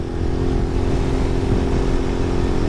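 A Lifan street-legal motorcycle with a 12-horsepower engine and five gears runs with a steady, close, loud mechanical drone and a throbbing low-end rumble throughout.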